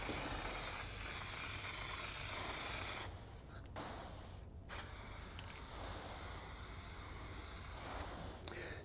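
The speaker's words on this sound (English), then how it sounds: "So we'll spray them on this board here and we'll see how it goes." Wurth Quattro spray paint hisses from an aerosol can onto a test board in steady bursts, broken by a few short pauses, close and alone with no talk.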